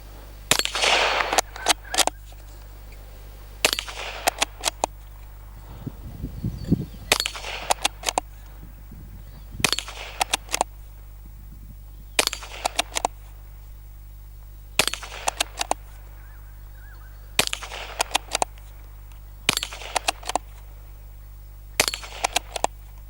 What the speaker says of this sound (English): let's just get out that 22 and do something that I absolutely love doing